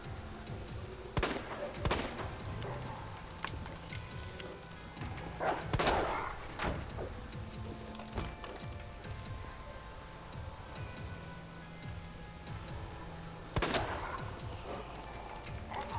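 Gunshots in the Resident Evil 2 video game, a few sharp loud reports near 1, 2, 6 and 13.5 seconds over a steady rumbling game backdrop.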